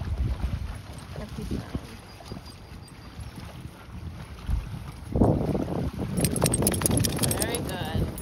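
A motorboat runs on the water off a beach on a sunny day, its steady engine drone mixed with buffeting wind noise while people chat nearby.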